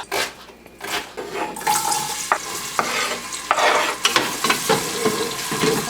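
Chopped onions tipped into hot oil in a pot for an Afghan dish, a loud, close hiss and crackle of frying with scraping stirring strokes and clatter throughout.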